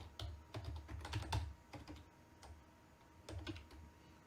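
Keystrokes on a computer keyboard while entering switch configuration commands, coming in short clustered bursts of clicks with brief pauses between, close and clear with no talking.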